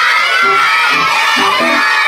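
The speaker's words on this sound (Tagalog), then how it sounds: "okay, so everybody shout, say, happy birthday, Lawrence!" A group of children at a seventh birthday party shout happy birthday together, a loud, ragged burst of young voices rising and falling in a few overlapping pulses over a busy crowd din.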